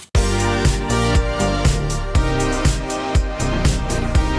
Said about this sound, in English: So this is a facsimile of what the bass would sound like if it were lowered.